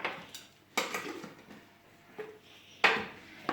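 A spoon stirs oatmeal in a bowl in a home kitchen, giving a few sharp clinks and scrapes against the dish spaced between softer stirring and quiet gaps.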